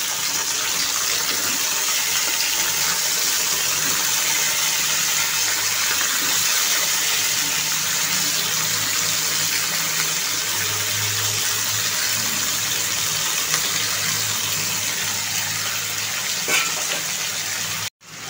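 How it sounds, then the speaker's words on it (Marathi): Cauliflower florets sautéing in hot oil for a masala curry give a steady, close, broadband sizzle that holds evenly for about eighteen seconds before cutting off abruptly, with no talk over it. "इथे मी तेलामध्ये फ्लॉवर थोडासा परतून घेत आहे।"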